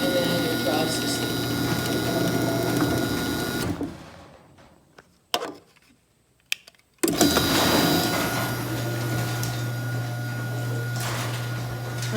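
A Chamberlain C253 chain-drive garage door opener runs with a steady mechanical whir and rattling chain, stops for a few seconds of near silence broken by clicks, then starts up again and keeps running.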